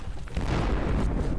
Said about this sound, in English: Still got artillery's doing good work, hitting those forces coming out of the woods